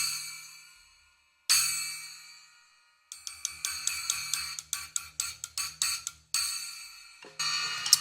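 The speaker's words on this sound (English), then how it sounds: "This is also my personal 6-inch Zildjian." Small 6-inch Zildjian splash cymbal rings out bright and shimmering after a couple of single strikes, then a fast run of crisp, evenly spaced hits with short decays, close up and with no voices over it.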